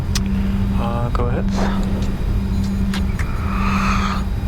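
Challenger 605 business jet engines at takeoff in Tel Aviv, heard from the cockpit: a steady low engine drone and whine under clipped radio and crew talk.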